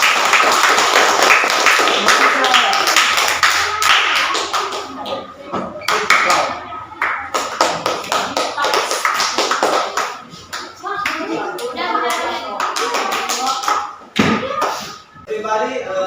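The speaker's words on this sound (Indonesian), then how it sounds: "Give applause to your friend." A school classroom claps for a student, with uneven bursts of hand clapping and sharp taps mixed with thumps and young voices talking across the room.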